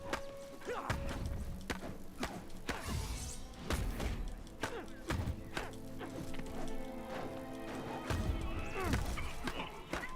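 Repeated melee strikes on an enemy in the Spider-Man PS4 video game, sharp thwacks and thuds landing in irregular bursts with whooshes and crashing impacts, mixed with game music and effects.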